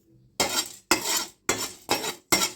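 Edible gum being fried and stirred in a pan for dry fruits laddu, heard as five sharp scraping strokes of a utensil against the pan at a steady rhythm, with brief pauses between, close and fairly loud.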